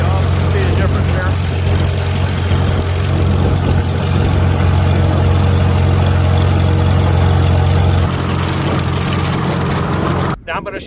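An antique tractor engine runs steadily and loudly nearby with a constant low drone and a slight drop in pitch near the end before it cuts off abruptly.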